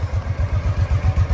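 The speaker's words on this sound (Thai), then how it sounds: "เดี๋ยวสตาร์ทฟังเสียงเครื่องยนต์เลยดีกว่า คนดูเครื่องยนต์เดินนะ" Honda PC800 Pacific Coast touring motorcycle engine idling close by, a steady low throbbing pulse with even rhythmic beats and no talk over it.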